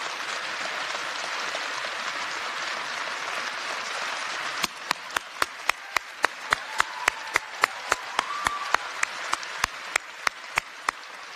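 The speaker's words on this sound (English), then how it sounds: "Let's give him a round of applause" A crowd applauds steadily, with sharp, evenly spaced claps or thumps cutting through the second half of the ovation.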